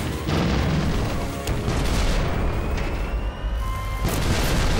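A heavy cannon shot booms in the steampunk strategy game Ironclad Tactics, loud blasts with rumbling tails, one strong burst early and another sharp hit near the end, no talk.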